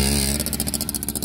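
Motorcycle fitted with a PWK 30 carburetor and a racing exhaust revs hard, a close, loud steady drone that breaks into rapid pulsing bursts as the throttle is blipped against the limiter.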